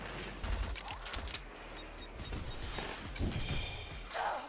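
Rapid bursts of video-game gunfire spray across the screen in Steel Carnelian, a steady crackling fusillade with a few sharper hits, loud and close with no talking.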